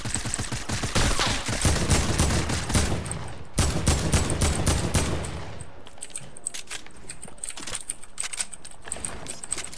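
Rapid bursts of gunfire from a shooting video game in Arena mode, dense and loud through the first half, then thinning to sparser, quieter shots and clicks.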